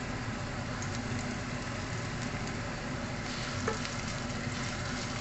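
Garlic fries in a little oil in a pan, giving a steady, even sizzle close by at moderate loudness, with a faint background hum and no talking.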